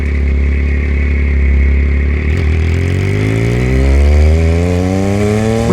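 A Yamaha MT-09 motorcycle engine while riding, loud and close, holding a steady drone before revving up through a long rising acceleration with climbing pitch.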